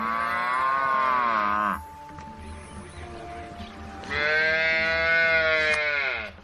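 Ankole cattle in Uganda give two long, loud, close moos with a quieter pause of ambient rumble between them.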